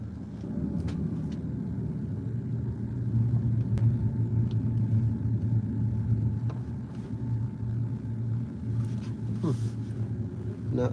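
A Tesla Cybertruck rolls along a road, its low steady road rumble and tire hum continuous and close, with faint occasional clicks and no clear speech.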